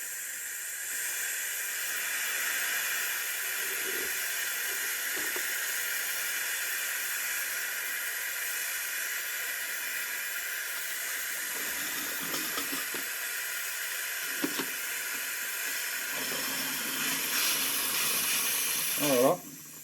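Venturi vacuum bleeder drawing fluid from a motorcycle brake into a bottle, giving a steady, fairly loud compressed-air hiss that runs throughout, with faint handling noises underneath.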